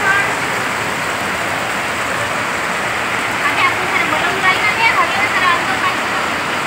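Heavy rain pours steadily, with runoff pooling on a road during a stormy downpour, making a loud, even wash of rushing water throughout, with voices faintly present underneath.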